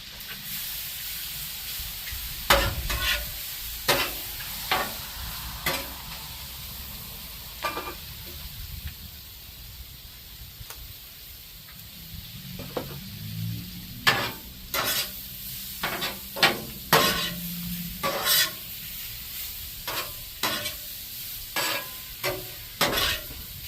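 Shrimp stir-frying for a Cajun stir fry with tomatoes on a Blackstone griddle, a steady loud sizzle and hiss broken by repeated sharp scraping strokes of a spatula, close by with no talk.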